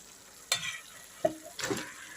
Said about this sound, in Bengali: দেখো ভাজা চিকেনগুলো আমি এতে দিয়ে দিচ্ছি